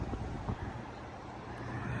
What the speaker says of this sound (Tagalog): mahangin nga lang po ngayon